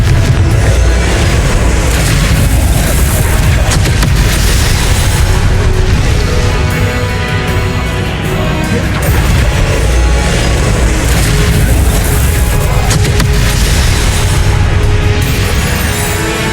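Confringo explosive spell blasts in the Hogwarts Legacy video game make a loud, dense barrage of booms and rumbling bursts with no pauses.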